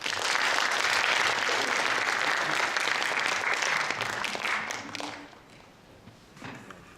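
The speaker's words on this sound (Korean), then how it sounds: "박수 함께 시작하죠" An audience at a jazz performance applauds, a full, steady wash of clapping for about five seconds that then fades to a few scattered claps and quiet room noise.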